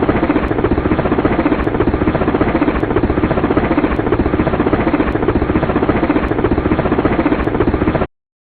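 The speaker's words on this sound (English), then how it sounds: "using the character to get in the helicopter, flying it over there, and getting out" Helicopter engine in a video game starting and running, a loud steady rotor-like chop with a fast even pulse, continuous and close for the whole stretch, then cutting off abruptly near the end.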